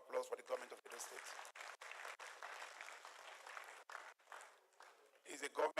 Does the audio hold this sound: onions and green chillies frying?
no